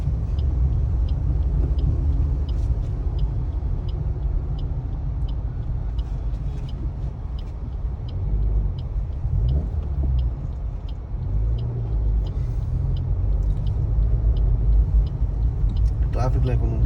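Maruti Swift car engine climbing a flyover in traffic, a steady low rumble running continuously throughout, with faint repeated ticking and a brief hiss near the end.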